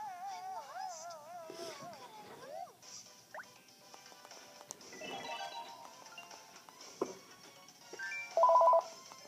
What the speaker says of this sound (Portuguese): Tá tocando o telefone.